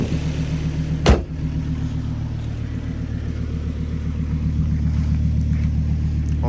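A 2001-2009 front-wheel-drive Volvo S60 fitted with Bilstein B12 Pro-Kit lowering suspension, heard from inside while driving: a steady low engine and road rumble with a single sharp thump early on, and the engine swelling slightly toward the end.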